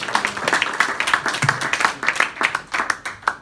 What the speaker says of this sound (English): quick round of applause, please, for our next speaker, Salma Yaqub